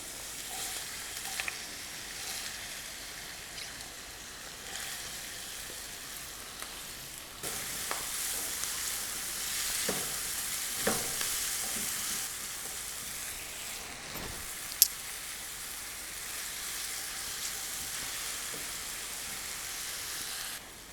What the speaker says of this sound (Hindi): इसको हम शैलो फ्राई कर लेंगे।